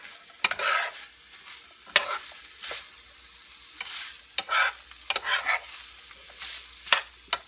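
Chopped onion pieces are stirred in a hot pan, giving a series of short scraping stirs and soft sizzling bursts separated by quiet gaps, close and fairly faint.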